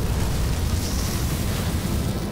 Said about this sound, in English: It's a real fire this time.